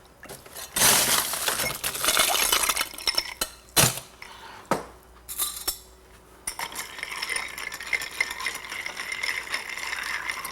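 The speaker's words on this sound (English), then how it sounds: "Now we're going to give this a stir." A tequila cocktail is stirred in a glass, giving close, busy clinking and rattling that comes in bursts, then settles into a lighter, steady swirl.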